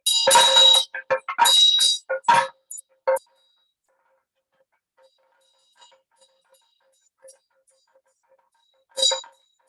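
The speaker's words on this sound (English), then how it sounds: "The Damaru and the bell" Ritual bell and damaru drum in a Buddhist practice, a rapid burst of rattling drum strikes and bright bell rings at the start, then silence and faint ticks, with one more bell ring near the end.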